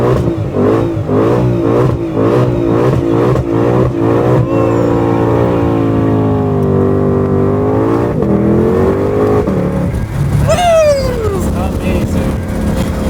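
A 2022 Shelby GT500 V8 revving and accelerating hard, a loud close engine note rising and falling through pulsing gear changes, with a voice talking over it.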